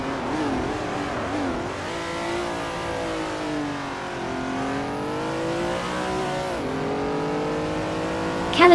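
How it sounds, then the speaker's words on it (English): A 1970 Plymouth Superbird engine revs in a racing video game, rising and falling through gear changes with a loud, continuous close-up roar and harmonic whine. "Pink Wolf is driving a 1970 Plymouth Superbird, known for its distinctive aerodynamic design and high-speed stability"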